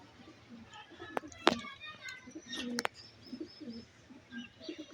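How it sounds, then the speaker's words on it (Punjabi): Pigeons coo softly and repeatedly in low, throaty bursts, mixed with a few sharp clicks, chirps and faint voices nearby. "ਇਹ ਉਹੀ ਬਿੰਦਰ ਵਾਲੇ ਕਬੂਤਰ ਆ ਬਾਈ"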